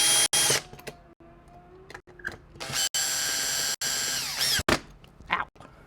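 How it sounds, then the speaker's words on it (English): Power drill driving long screws while fitting switches and outlets: several short whirring bursts with rising and falling pitch, separated by brief pauses and clicks, close and fairly loud. "my drill"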